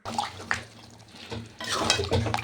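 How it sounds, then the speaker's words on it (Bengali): Reserved meat stock poured back into mutton in a cooking pot, a close splashing gush with clinks of metal against the pot, coming in two brief pours separated by a short pause. "সেই জলটাই আমি দিয়ে দিলাম মাংসের ভেতরে।"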